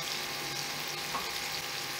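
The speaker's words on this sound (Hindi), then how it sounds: "अब इन सब मसालों को अच्छे से 3 से 4 मिनट के लिए भून लेंगे।" Ground spices such as turmeric, ginger powder and crushed coriander fry in a pan for a ridge gourd curry, giving a soft, steady sizzle close by with faint stirring.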